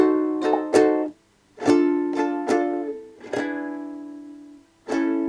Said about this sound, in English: the chords in this tutorial that you're going to learn with your ukulele